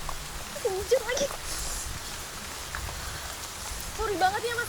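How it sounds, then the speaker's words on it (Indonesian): Steady rain falling, a constant soft hiss throughout, with a voice speaking over it in short phrases. "Hujan lagi."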